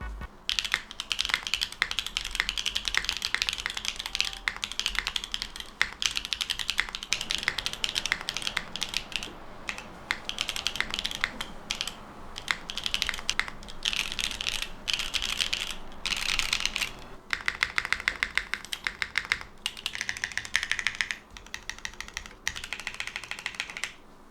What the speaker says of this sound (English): I hope you like the sound.